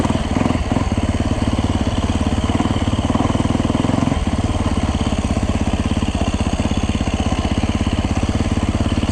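A four-stroke 450cc dirt bike engine, such as a Yamaha YZ450F or Husaberg FX450, drones loud and close while being ridden, holding a steady rapid thump with a brief dip in revs partway through.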